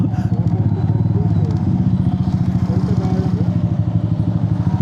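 A motorcycle engine putters nearby with a steady, rapid low throb, while people talk over it, on a ride between Manila and Dingalan, Aurora.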